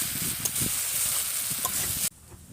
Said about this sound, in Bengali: এবার এর মধ্যে দিচ্ছি সোয়াবিন আলু। তো ভালো করে নেড়ে নেব।